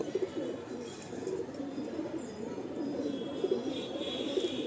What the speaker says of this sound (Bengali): এটা মেল পায়রা